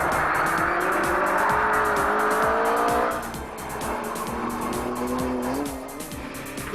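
Rally cars race the Georgetown prologue stage of TARGA Tasmania, a loud close engine roar with rising revs and gear changes, tyres squealing through corners, then the note drops and fades as a car moves away.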